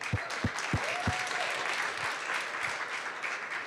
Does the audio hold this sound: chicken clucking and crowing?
no